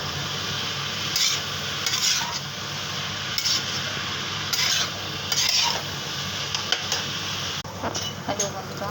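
Salted cabbage and fish head curry being stirred in a cooking pot, with intermittent scraping and clinking of a utensil against the pot over a low sizzle, repeated every second or so, close by, under faint background noise.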